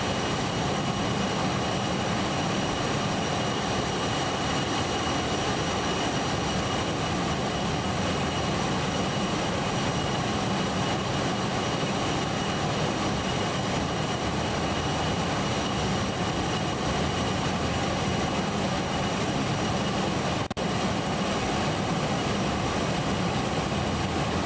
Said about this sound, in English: I am getting a lot of engine noise